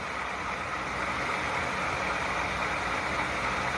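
Rapido Southern Pacific RS-11 model locomotive with a LokSound sound decoder, its diesel engine sound running at full throttle: a steady, even drone that holds without pause, fairly quiet and alone.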